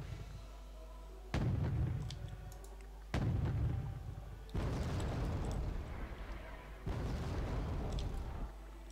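Artillery fire from PRAM mortars in the video game Wargame Red Dragon: four heavy, booming launches in a steady sequence, each with a deep low thump followed by a rumbling, noisy tail.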